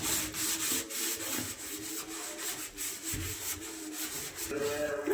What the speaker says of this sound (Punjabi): ਇਸ ਤਰੀਕੇ ਨਾਲ ਰਗੜ ਲੈਣਾ ਜੀ ਚੰਗੀ ਤਰ੍ਹਾਂ